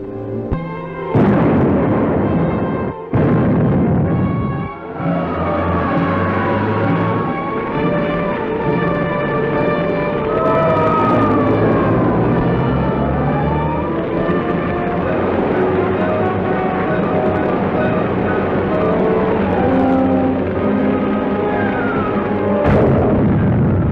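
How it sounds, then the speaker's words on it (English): A massive explosion of petroleum stores at a supply depot, a loud sustained roaring rumble with sharp booms near the start and end, continuous and dense throughout. "The explosion was felt throughout this area."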